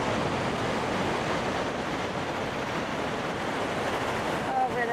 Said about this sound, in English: You can see quite the rushing river coming around both sides of it here.